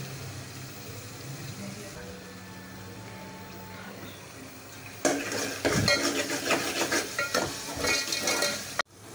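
Minced meat qeema cooks in oil and spice masala in a pan, first sizzling softly, then stirred with a utensil that scrapes and clatters loudly against the pan, with a sharp knock near the end.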